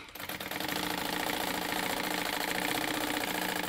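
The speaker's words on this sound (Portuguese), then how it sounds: "eu já vou costurar aqui em todos os cantinhos" A sewing machine stitches the corners of a fabric vanity case, a close, steady, rapid mechanical whirr that starts after a brief quiet moment and runs continuously without pause.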